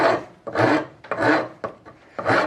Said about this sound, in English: go along with a coarse rasp